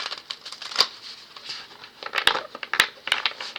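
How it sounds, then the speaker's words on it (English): A deck of cards shuffled in an ongoing soft, crisp rustle, with several sharper card snaps through the short stretch. "I'm talking to y'all while I'm shuffling these cards"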